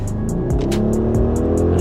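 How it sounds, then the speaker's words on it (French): A customized rental car's exhaust revs loudly and steadily up close, a continuous engine roar with rising and falling pitch and sharp bursts on top. "Je teste l'échappement."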